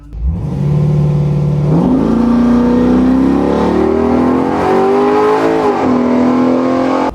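A Trans Am race car's loud engine roars and revs up hard down a drag strip, shifting gears as it accelerates, pitch climbing, dropping and rising again in a sustained full-throttle run.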